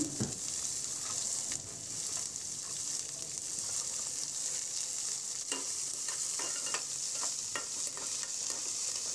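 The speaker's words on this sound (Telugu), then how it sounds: "బాగా అన్నీ మిక్స్ చేసి మీడియం ఫ్లేమ్లో కలుపుతూ గోల్డెన్ కలర్లో వచ్చే వరకు వేగనివ్వాలండి" Onions with urad dal, mustard seeds and curry leaves frying in oil for samosa filling, a steady bright sizzle under repeated scraping stirs and light clinks from a ladle, close up with no talk.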